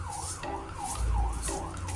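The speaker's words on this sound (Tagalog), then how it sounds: "Marinig nyo may wangwang." A wailing siren rises and falls in quick repeated cycles, moderately distant, over a low background rumble.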